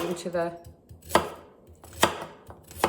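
Knife chopping carrot on a cutting board while making bone broth, three sharp separate thuds spaced about a second apart, close and clear, with faint kitchen sounds between.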